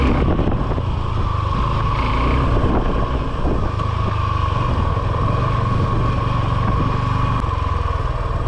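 A motor vehicle rides along a rough, hazardous road, its engine droning loud and steady close by, with wind buffeting throughout.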